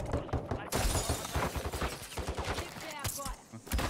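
Rapid bursts of automatic gunfire from a Warzone match crackle close and loud, overlapping in fusillade-like volleys with brief pauses, while players talk over the action.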